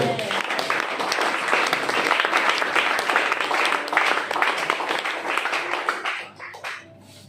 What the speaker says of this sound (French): Alors nous acclamons encore pour le Seigneur.